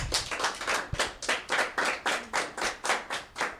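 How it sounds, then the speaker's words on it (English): An audience at a children's journalism training graduation ceremony applauding the trainers: steady, rhythmic group clapping in even pulses, close and moderately loud, with no talking. "please clap for your trainers as well"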